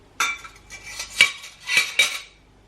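A folding metal steamer basket clatters against a large saucepan, a handful of loud metallic clinks and rattles in quick uneven bursts, close up with no talking.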